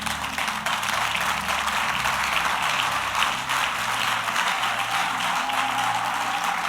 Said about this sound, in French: Merci pour vos acclamations.